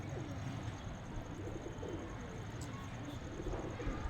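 A pigeon coos on a rooftop, soft low cooing under a constant rumbling background, fairly faint and continuous.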